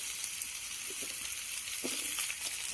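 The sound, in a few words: stir-frying potatoes and pumpkin in a pan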